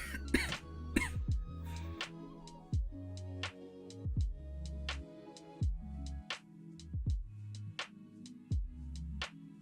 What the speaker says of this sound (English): Gosh, sorry, another coughing.